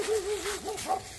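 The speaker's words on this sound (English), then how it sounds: "they're still having a bark" Dog barking in a series of short, fairly close barks with whimpering, yip-like pitch rises, alone with no talk.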